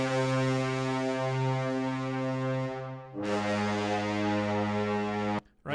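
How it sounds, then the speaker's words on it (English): Brassy orchestral trombone and bass trombone patch holding loud, sustained low chords, a broad foghorn-like blare that shifts to a new chord midway and cuts off sharply near the end. "maybe some trombones in there, some bass trombones or something. I love this patch. It has a very it can be very, very brassy"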